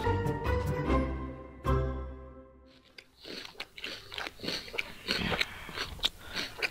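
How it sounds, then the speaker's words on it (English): Loud crunching bites and chewing sound close to a microphone, with sharp irregular crunches at first, then a quicker wet chewing rhythm. "you chewing hella hard?"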